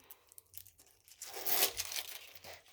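A close, crisp tearing of a paper sticker packet that builds quickly to a loud rip, then trails off into crinkling.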